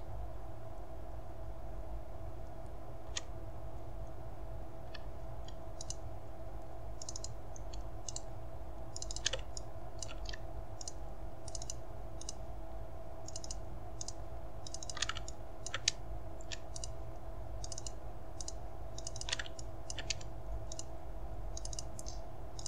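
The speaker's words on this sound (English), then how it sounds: "Click the first one, double click the last." Computer mouse clicks and double-clicks while modelling armor for a Resident Evil Jill figure, many small sharp ticks in irregular pairs and singles over a steady electrical hum, close but faint.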